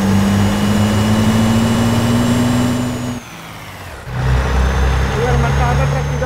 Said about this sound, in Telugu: మన టాటా ట్రక్